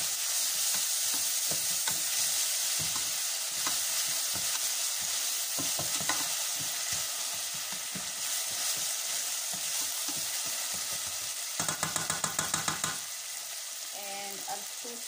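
Onions and salt fry in a pot, a steady close sizzle broken by repeated scraping and knocking of a spoon as they are mixed, with a burst of quick clatters near the end.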